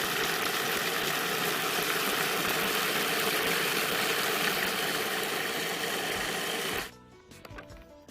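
A food processor whirs loudly and steadily, churning a crumbly banana crumble mixture for about seven seconds before cutting off abruptly, leaving near silence with small clicks.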